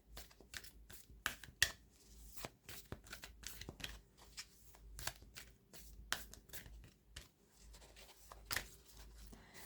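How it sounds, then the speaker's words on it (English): Slightly sticky tarot cards being shuffled by hand, soft riffles and slaps in quick irregular bursts, close and quiet. "They don't shuffle very well."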